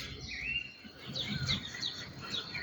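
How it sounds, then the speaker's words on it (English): Sparrows and other birds chirping in trees at dawn, a dense, faint chorus of overlapping high twitters and tweets at a distance. "in the trees there are millions of birds chirping"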